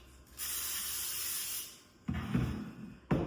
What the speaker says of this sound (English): We're going to spray our casserole dish